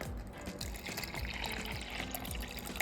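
Water poured into small dishes for tarantulas, a steady trickling and splashing stream that runs continuously throughout.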